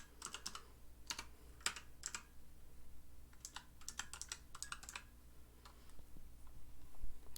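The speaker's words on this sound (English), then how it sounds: "So I'm having fun typing with one hand." One-handed typing on a computer keyboard, quiet clustered clicks in irregular bursts with short pauses, close and fairly faint over a low steady hum.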